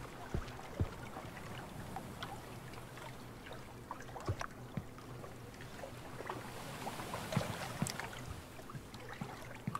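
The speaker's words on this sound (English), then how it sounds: "And the sound of the water lapping against the dock. Very soothing." Water laps against a dock in the horror video game Horror Tales: The Wine, a soft, steady ambience with faint splashes and gentle trickling, quiet and continuous with no voices.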